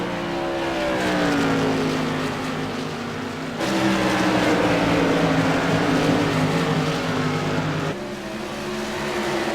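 Light modified race cars roar around Rockingham Speedway, a continuous loud engine drone whose pitch sweeps as cars pass, with abrupt level changes suggesting cars coming closer and fading.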